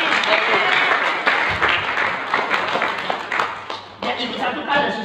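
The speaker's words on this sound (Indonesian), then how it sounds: "Tolong bangun, tepuk tangan." A room full of people applauding, sustained clapping that dips briefly then swells again, with faint voices underneath.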